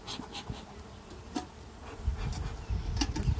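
Honeybees buzzing around a small urban beehive opened for inspection, a continuous close hum with individual bees droning past, plus some handling knocks and rustles, no speech.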